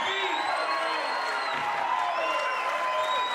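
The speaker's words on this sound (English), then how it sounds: "You'll hear this crowd erupt" A pool hall crowd at the 2009 San Diego Classic final erupts in sustained cheers, whoops and applause after a 9-ball match, loud and dense throughout with shouts rising over the clapping.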